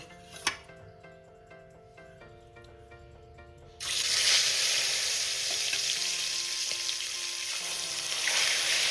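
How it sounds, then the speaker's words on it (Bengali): Rohu fish pieces go into hot oil in a wok: a quiet first half gives way to a sudden, loud, steady sizzle and crackle of frying that carries on close-up to the end. "মাছটাকে আমি সবার প্রথমে ভেজে নেব।"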